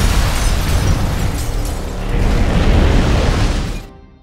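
A loud, sustained explosion in an action film, a dense roaring blast that fills the clip and holds for several seconds before cutting off abruptly near the end.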